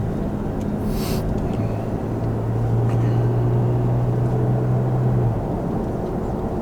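Tuned third-generation Toyota Tacoma pickup accelerating smoothly on the road, a steady low engine drone with a rising tone that holds and then cuts out, heard from inside the cab under constant road noise.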